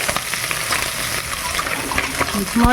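Chela river fish frying lightly in a pan, a steady close sizzle and crackle with a few stirring clinks toward the end.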